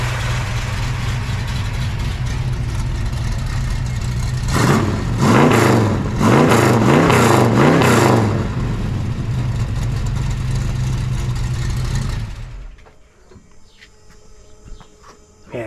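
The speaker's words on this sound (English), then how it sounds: "Does have an old set of hooker headers. A little older exhaust, but it still sounds great." Hemi V8 in a 1971 Dodge Challenger, breathing through an older set of Hooker headers, idles with a loud steady rumble, blips into a series of sharp revs mid-clip, then settles before cutting off near the end.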